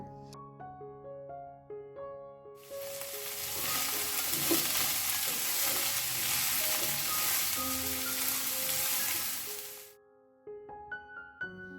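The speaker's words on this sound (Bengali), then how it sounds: "সবজিগুলোকে একটু ভেজে নিয়ে এর মধ্যে আমি একটা ডিম ফেটিয়ে দিয়ে দিচ্ছি" Cauliflower, cabbage, carrot and spring onion frying for fried rice, a loud broadband sizzle rising suddenly and holding for about seven seconds before cutting off. Soft background music plays before and after.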